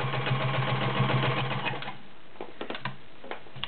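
A Kenmore model 1229 sewing machine with a size 16 needle stitches through 10 layers of cotton, a steady close motor whir with rapid needle clatter that stops about halfway, leaving faint clicks and handling sounds.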